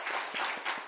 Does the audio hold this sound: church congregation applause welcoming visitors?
yes